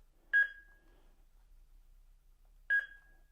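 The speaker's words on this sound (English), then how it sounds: "Place pen in center of each box until beep" Two short electronic beeps, clear and isolated, sound a couple of seconds apart against near silence.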